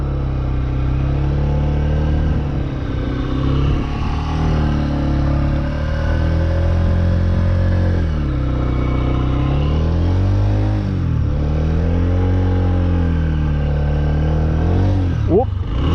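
Honda motorcycle engine running while ridden with clutch, throttle and rear brake, a steady loud drone that rises and falls in pitch with throttle changes, up close throughout.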